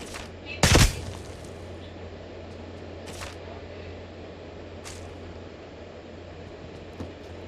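Gunfire in PUBG Mobile: one loud, close shot bursts out early, followed by a few fainter, more distant shots spaced over a low steady hum.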